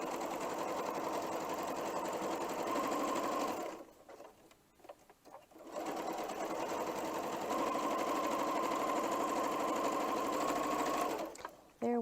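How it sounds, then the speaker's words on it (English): A sewing machine stitches a quilt block in two long steady runs of rapid mechanical whirring, close and fairly loud, broken by a quiet pause while the pieces are turned and set back under the needle. "put them back under the needle, and start sewing down the other side"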